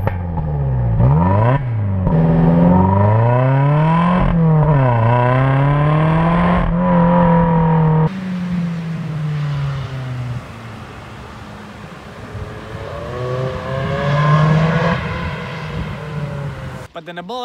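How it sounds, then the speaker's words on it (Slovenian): A Toyota Yaris GRMN with a trapezoid-shaped rally-style exhaust revs repeatedly, its engine note sweeping up and down in quick pulls. It then settles into a rougher idle before one more rising rev, loud and close. "tale zaključek izpušne cevi v obliki trapeza, ki ima res ima ful hud zvok, ki je v bistvu najboljši približek tem rally avtomobilom"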